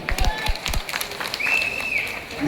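A crowd claps at a political meeting of alliance party workers, with a steady wash of clapping and crowd noise filling the clip and a few sharper claps near the start.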